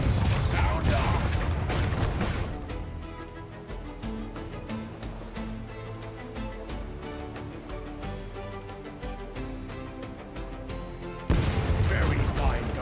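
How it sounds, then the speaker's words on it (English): Ship cannons firing in a video game, loud booming volleys at the start and again near the end, with a sustained rumbling bed of battle noise and music between them. "Cannons, sound off."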